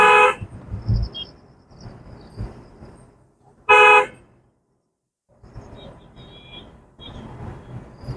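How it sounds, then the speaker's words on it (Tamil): During a manual car driving lesson, a car horn gives two short, loud toots a few seconds apart, with quiet engine and road noise in between. "இன்னும் கூட கொஞ்சம் ரிலாக்ஸாக ஒரு முறை ஹாரன் அடிச்சிருங்க."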